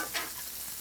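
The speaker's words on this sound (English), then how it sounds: "Stirring it together will help burst some of these tomatoes." Spaghetti is stirred through a sizzling burst cherry tomato sauce in a hot pan, giving a continuous close hiss and crackle with a brief soft scrape of the stirring.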